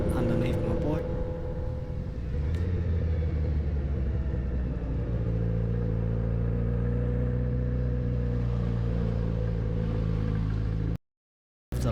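A Yamaha FZ1S motorcycle riding on a road with firmly set suspension, its engine a steady loud rumble with harmonic drone throughout, rising slightly midway, before cutting out abruptly near the end.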